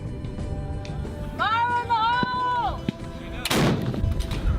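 An artillery cannon fires at the Big Sandy Shoot, a large-caliber gun event, as one loud close blast with a broad rumbling burst near the end, following a sustained whine and steady background crowd noise and voices.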